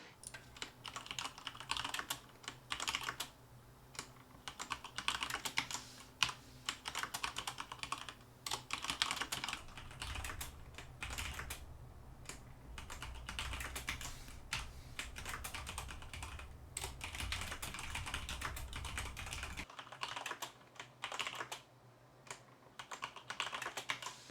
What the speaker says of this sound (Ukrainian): як мікрофони захоплюють чи відтворюють звук механічної клавіатури